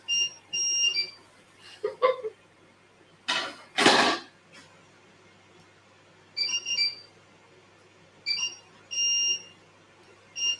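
High electronic alarm beeps sound in short repeated bursts, spaced a couple of seconds apart, with a loud clatter partway through.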